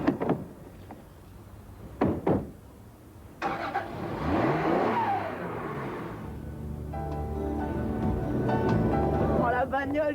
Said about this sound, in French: Oh, la bagnole, une 2 chevaux,